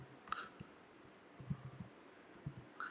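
Soft, quiet typing on a computer keyboard, a few scattered key clicks in short irregular bursts against near-silent room tone.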